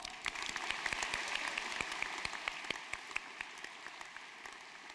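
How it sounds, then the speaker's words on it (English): Applause at a university mathematics and statistics convocation after graduates' names are read, a steady patter of clapping hands filling the hall at moderate level, tapering slightly toward the end. "Please give them a round of applause."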